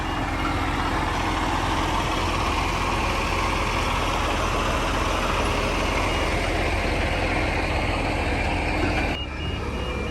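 A brand new Warrior 1800 delivery truck idles steadily, a loud, constant low diesel rumble filling the scene without pause until a brief drop near the end.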